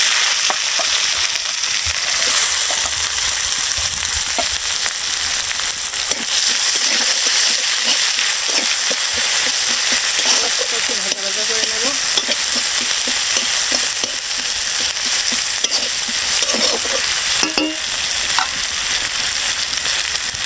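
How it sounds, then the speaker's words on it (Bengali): Chopped onion sizzles in hot oil seasoned with whole cumin and bay leaves, a loud, dense, continuous crackle close by with occasional scraping stirs and faint clatter throughout. "এখন এই যে কেটে রাখা পেঁয়াজটা দিয়ে দেবো।"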